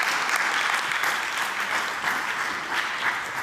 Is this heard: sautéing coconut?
no